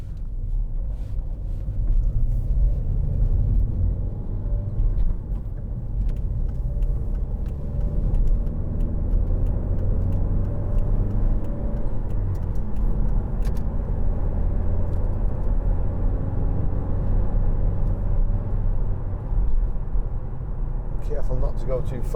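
A 2011 Volvo V50 1.6 D2 R-Design estate cruising on the road, its steady low engine drone and tyre rumble continuous and fairly loud throughout, with talking over it.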